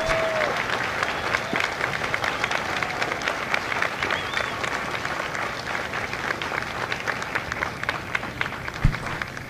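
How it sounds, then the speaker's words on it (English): Audience at a Marine Corps recruit graduation at MCRD San Diego applauding Marine veterans, a steady, dense round of clapping from a large crowd that holds throughout. "Ladies and gentlemen, a round of applause for their dedicated service to Corps and country."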